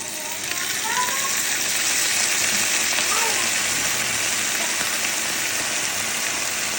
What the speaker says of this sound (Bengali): এখন আমি শাক এর সাথে ঢেলে দিয়ে একসাথে ফোড়ন দিব।